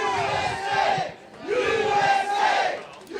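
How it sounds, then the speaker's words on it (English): A crowd at a Trump rally in Asheville, North Carolina, cheers and chants in loud rising waves, two long surges of massed voices separated by a short dip. "Crowd is just super enthusiastic."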